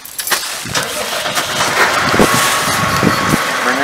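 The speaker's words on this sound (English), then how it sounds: "you want Aaron to start the tractor up." A tractor engine cranks over with a few sputtering turns, then catches and settles into a rough, loud idle close by, with no talking over it.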